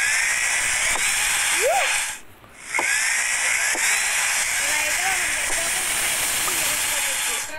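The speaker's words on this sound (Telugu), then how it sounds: "చూసారా వేసి ఎలా డ్రిల్ చేసిందో" A diamond drill bit grinds steadily with a loud, hissing whine, briefly cutting out mid-way before resuming, while someone speaks under the noise.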